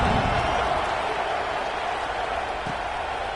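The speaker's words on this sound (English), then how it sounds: "this crowd is buzzing after that last score" A football stadium crowd keeps up a loud, steady roar and buzz after a score, with the broad noise of many voices filling the whole stretch.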